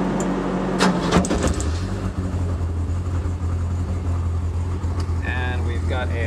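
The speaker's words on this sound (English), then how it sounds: "we've got a lovely 1200 RPM idle" A Megasquirt-tuned car engine idles at 1200 RPM with a steady, even hum, heard close up, with a few brief clicks early on and some faint rattling toward the end.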